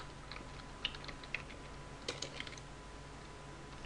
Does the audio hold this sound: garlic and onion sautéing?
no